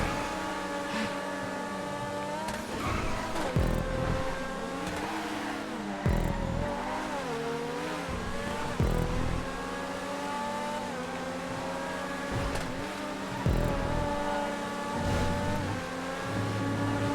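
Several T20 race cars roar and rev together on a GTA 5 racing track, engines whining up and down in layered pitches as a pile-up unfolds, with a few sharp impact bursts cutting through the steady loud engine drone.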